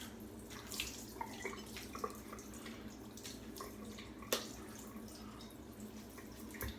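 Water running from a bathroom tap during a shave, quiet and close, with intermittent splashes and drips as a man rinses off.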